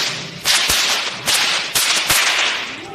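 Several sharp whip cracks ring out at an Australian sheep shearing show at Dreamworld, about four loud snapping bursts in quick succession, close and unaccompanied by talk.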